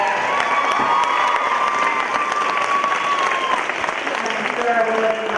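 A crowd applauds and cheers at a ladies Gaelic football junior final, with steady loud clapping, whoops and shouts from spectators and players, and some voices calling out over it.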